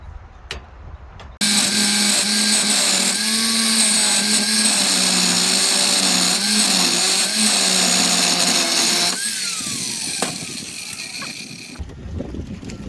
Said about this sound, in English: So I got a new tool, tiny little chop saw.